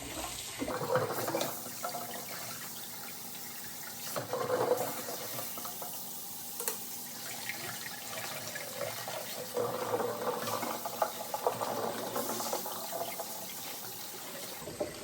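Cold tap water runs steadily into a pot of hard-boiled eggs, making a continuous moderate splashing and filling sound throughout with no talking.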